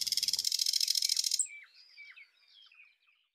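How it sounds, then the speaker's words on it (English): A thrush nightingale sings nearby, starting with a loud rapid rattle of evenly repeated notes, then a series of thin, higher chirps and whistles that fade away. "we chose a specific songbird, the thrush nightingale, which sounds extremely rhythmic"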